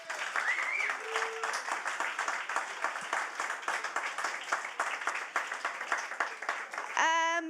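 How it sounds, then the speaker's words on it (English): An audience at a storytelling and writing event gives a steady, sustained round of applause for the writers, dense clapping throughout with a few whistle-like tones early on. "So a round of applause for all the writers in the first half"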